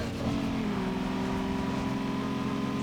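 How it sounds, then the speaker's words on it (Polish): A rival car's engine in the racing video game Need for Speed Underground 2, a steady droning hum holding a fairly constant pitch, moderately loud and continuous with no speech. "słychać, że tam inne auto podgania"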